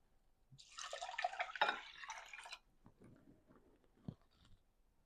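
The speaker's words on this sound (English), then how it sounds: "I'm going to add 2 cups of water" Water is poured into a bowl of rinsed white rice for microwave cooking: a brief splashing burst lasting about two seconds, followed by a few faint drips and small knocks.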